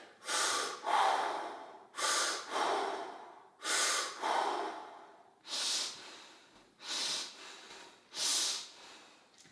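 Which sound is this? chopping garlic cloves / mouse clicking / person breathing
person breathing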